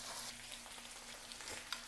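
Chicken chops frying in a pan as the last of the water cooks off, a steady soft sizzle with occasional stirring scrapes, heard close and alone.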